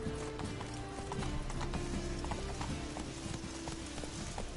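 Hooves of the horse Roach clip-clop in a quick, steady galloping rhythm in The Witcher video game, close and continuous over a dense game soundscape, with no speech.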